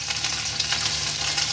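Chopped ginger and green chilli frying in a tempering of hot oil, a steady close sizzle with soft stirring, no voices.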